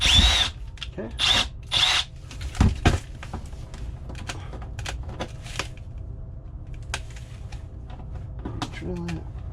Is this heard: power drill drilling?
yes